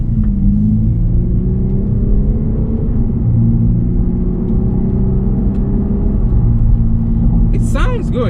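A 2019 Lexus IS300 F-Sport's 2-liter turbocharged engine drones steadily from inside the cabin, its intake note rising and falling in pitch through acceleration and shifts, with chirpy sounds near the end.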